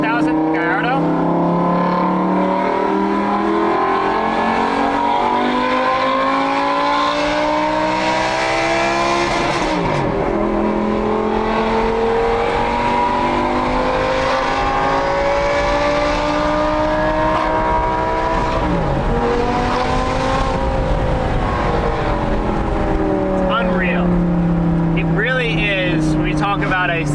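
A stock Lamborghini Gallardo engine with no software tuning revs loud and close, its tone climbing slowly through the RPM range in several rising and falling sweeps over nearly half a minute.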